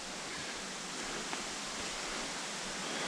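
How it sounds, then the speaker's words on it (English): A waterfall swollen by 10mm of fresh rain roars as a steady, dense broadband rush, constant and unbroken from start to finish with no voices. "at least you can hear the water."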